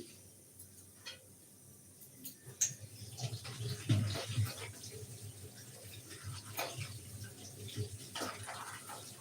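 Malabar spinach grown at home being rinsed in water, a steady low running and splashing wash with a few louder sloshes, close and moderate in level, no voices.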